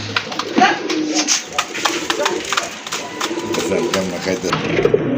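A male pigeon with feathered feet coos repeatedly at close range among other pigeons, a soft rolling rhythmic call with faint voices in the background.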